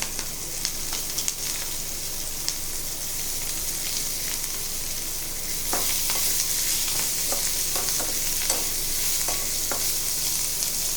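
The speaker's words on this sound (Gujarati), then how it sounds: "હવે આપણે તેમાં ઝીણા સમારેલા મૂળા લેવાના છે." Finely chopped radish sizzles and is stirred in a hot pan for a Gujarati radish-chili relish, with continuous frying hiss and scattered clicks and scrapes of a spoon against the pan.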